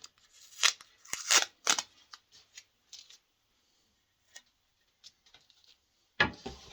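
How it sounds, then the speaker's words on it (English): Tape peeled off a wooden walking stick: several sharp ripping bursts close together at the start, a few faint ticks and pulls after, then one more loud rip at the end. "then we'll take the tape off the bottom one."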